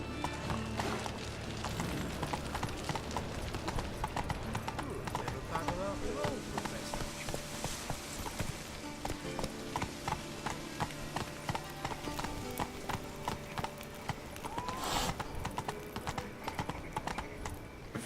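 Roach the horse gallops in The Witcher 3, hooves clip-clopping in a fast, steady rhythm for a long stretch, with game sounds and a voice speaking at times.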